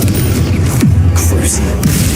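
Confringo spell blasts in Hogwarts Legacy, a loud rumbling explosive roar with low booms and short bright crackles on top, close and continuous throughout.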